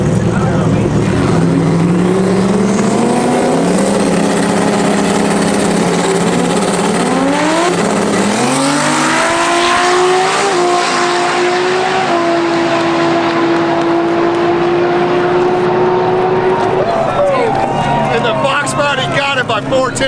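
Drag race at TX2K between a box body car and a Toyota Supra: loud engines rev and wind up through rising gear pulls, one sustained high engine note dominating near the end, with crowd noise and talk underneath.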